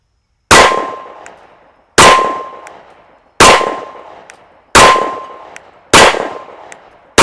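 Five loud, evenly spaced pistol shots from a SIG P365 9mm, each followed by the bright ringing clang of a hit steel bell target that decays over about a second.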